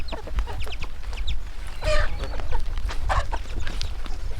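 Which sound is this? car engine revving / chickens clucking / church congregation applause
chickens clucking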